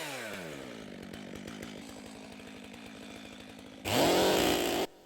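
A close chainsaw runs with rising and falling engine pitch as it revs, then erupts into a sudden, very loud, distorted roar for about a second before cutting back.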